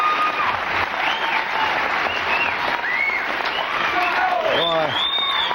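A television studio audience at a Tonight Show taping applauds steadily and loudly for Burt Reynolds, a dense wash of clapping lasting throughout, with a few voices calling out over it.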